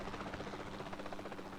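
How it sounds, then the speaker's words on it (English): Helicopter in the video game Jurassic World Evolution 2, a steady loud rotor drone with rhythmic blade chop that continues throughout without a break. "this helicopter is really loud"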